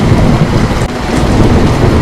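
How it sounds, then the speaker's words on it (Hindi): Heavy night rain pours down in a dense, loud, unbroken roar, with low rumbling thunder mixed through it and no voices. "रात का समय, तेज बारिश, बिजली कड़क रही है।"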